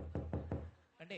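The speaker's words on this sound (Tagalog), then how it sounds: "Okay. Katok." Three firm knocks on a door in a steady rhythm, close by, followed by a brief voice.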